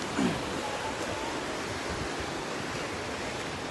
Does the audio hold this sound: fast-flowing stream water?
yes